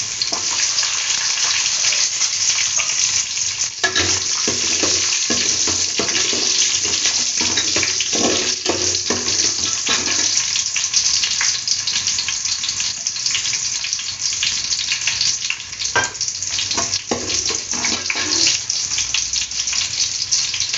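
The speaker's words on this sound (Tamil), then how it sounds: "சேர்த்து நல்லா வதக்கி விடுங்க" Whole small onions saute in hot oil for sambar, giving a continuous close sizzle with occasional scraping and stirring clicks throughout.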